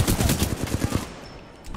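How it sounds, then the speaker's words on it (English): Flatline rifle firing in Titanfall 2: a rapid automatic burst of evenly spaced shots, loud and close, that stops after about a second and leaves a brief quiet tail. "This flatline has like no recoil and it's so nice. I'm liking this gun."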